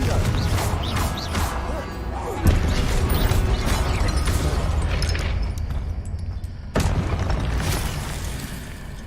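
Blasting spell explosion in a Hogwarts Legacy game battle, a loud booming burst that rises sharply out of continuous game sound, with a second sudden impact a few seconds later.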